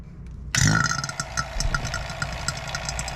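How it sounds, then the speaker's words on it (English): A vacuum pump on a Chevrolet C-10 pickup's R134a air-conditioning system kicks on abruptly after a brief quiet moment, then runs with a steady, loud mechanical drone and rattling pulses close by. "We'll turn on our pump."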